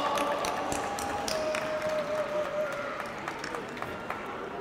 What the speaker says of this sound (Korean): 다시 한번 뜨거운 박수를 부탁드립니다